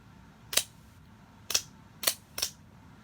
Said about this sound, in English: It's fairly stiff firing, but nevertheless, it's one of the more quiet OTF models that I have.